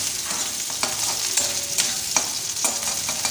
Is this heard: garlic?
yes